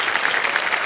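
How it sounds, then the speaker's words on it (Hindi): Studio audience applauding a game show contestant on the hot seat of Kaun Banega Crorepati, dense steady clapping filling the whole moment at even loudness. "इतने लोगों ने ताली बजाई आपके लिए और खड़े होकर के आपका स्वागत किया है"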